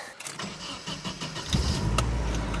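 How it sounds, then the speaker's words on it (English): A Nissan 240SX S14 cranks and fires up about halfway through, then settles into a steady, close idle after a brief rise in revs, with no talking. "This is gonna be my last time starting this car in quite a bit."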